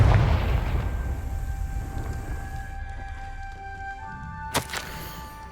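A Confringo blasting spell goes off in the Hogwarts Legacy video game, a heavy low rumbling blast with a sharp crack near the end, ringing over a droning game score.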